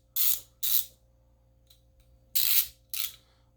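Four short, loud hissing bursts of spray lubricant are squirted into a 3/8 ratchet, each burst about a quarter second long, with pauses between them.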